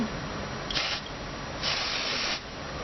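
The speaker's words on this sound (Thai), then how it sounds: "ก็คือสเปรย์ให้มันห่างจากผม" Two hissing bursts of an aerosol hair spray, a short one followed by a longer one, close and clear.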